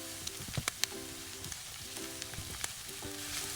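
Onion and green chillies frying in a pan, a steady close sizzle with scattered crackles and pops and a few light stirring scrapes, no talking.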